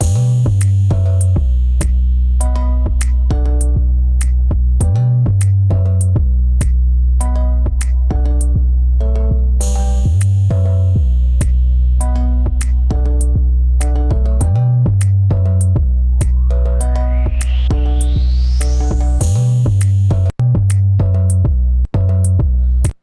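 A loud, repeating electronic drum beat made in SoundTrap, with punchy deep kicks and crisp hi-hats, cycles steadily, joined briefly by a rising synth sweep.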